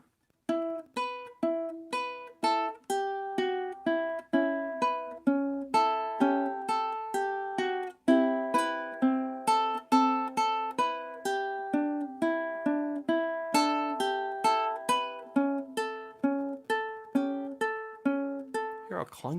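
Ukulele melody picked note by note without sustain, each note lifted off quickly: a steady run of short, plucked, clipped tones with quick decays and little ring between them, played alone.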